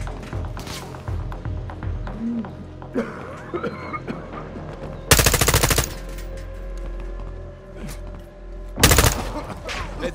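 Gunfire in the video game Call of Duty Modern Warfare 2, with two loud, close bursts of rapid machine-gun fire cutting through a busy battle soundscape of scattered shots and impacts.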